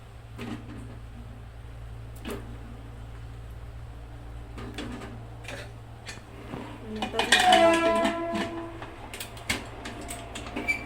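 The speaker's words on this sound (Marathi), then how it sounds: "आता ह्याच्यामध्ये हे बटाटे सर्व टाकते मी" Several hard knocks and clatters as potatoes drop into a metal pressure cooker holding water, a flurry of clanks near the end over a low steady hum.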